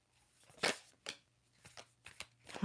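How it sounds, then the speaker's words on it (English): Cards riffle and snap in a few sharp bursts, close up and quiet, with short pauses between each flurry. "One more shuffle."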